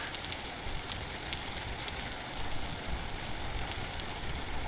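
Steady rain falls in the video game Vintage Story, a constant, even hiss of drops with no break and no talk, faint and unchanging throughout.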